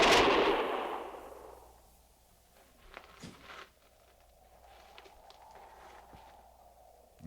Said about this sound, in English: We've stopped firing.